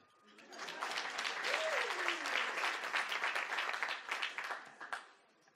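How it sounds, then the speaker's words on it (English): An audience claps at a graduation ceremony, the applause swelling quickly into a dense, steady patter of many hands and then tapering off near the end, with a brief voice rising faintly underneath. "You can clap."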